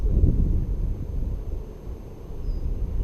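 Steady wind buffets a microphone outdoors beside a trout-fishing spot, a low rumbling gust that swells and eases across a few seconds with no speech.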